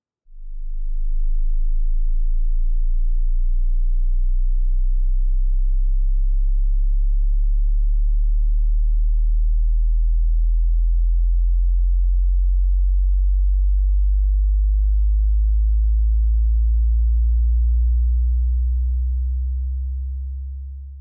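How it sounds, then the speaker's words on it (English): Pure low sine tone from a hearing test, sustained steadily for about twenty seconds with slight wavering in level, loud and alone with no voices. "now you will hear a frequency"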